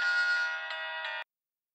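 Electronic phone ringtone, a bright steady tonal ring lasting about a second before cutting off abruptly into silence.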